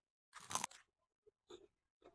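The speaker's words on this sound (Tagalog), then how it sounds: "Narinig niyo naman kung gaano siya ka-crunchy." Crisp crunch of biting into a chicharon pork rind, one loud close bite followed by a few softer chewing crunches, quiet and alone.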